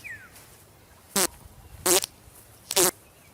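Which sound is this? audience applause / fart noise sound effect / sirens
fart noise sound effect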